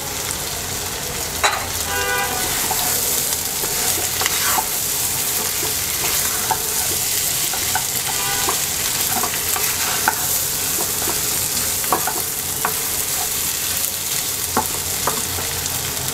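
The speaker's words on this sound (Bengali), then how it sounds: "ডিম দিয়ে দিচ্ছি।" Eggs and a sliced tomato fry in a pan for an egg curry with new potatoes, giving a continuous close sizzle with scattered sharp pops and occasional scraping stirs, without any talking.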